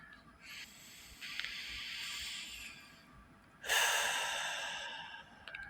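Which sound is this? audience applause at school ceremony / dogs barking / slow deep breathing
slow deep breathing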